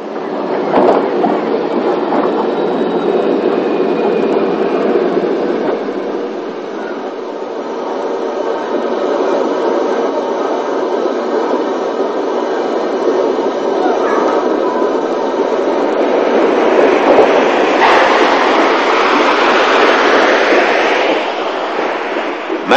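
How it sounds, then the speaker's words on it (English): A 1960s narrow gauge steam locomotive drifts into a crossing loop, rumbling and hissing steadily at moderate distance, with a continuous broad mechanical roar and faint rhythmic clanking building slightly toward the end. "drifting into the crossing loop to await the arrival of a southbound train"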